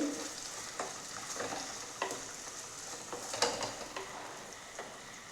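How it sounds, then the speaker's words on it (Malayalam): Chopped shallots sautéing in a pan for a sardine roast: a soft, continuous sizzle with periodic scraping stirs, fairly quiet and close, with no voices. "ചെറിയ ഉള്ളി ചെറുതായി അരിഞ്ഞെടുത്തിട്ടുണ്ട് ഞാൻ അത് നമുക്ക് ഇതിലേക്ക് ഇട്ട് കൊടുക്കാം അപ്പോൾ ഇത് നന്നായി ഒന്ന് വഴറ്റിയെടുക്കാം നമുക്ക്"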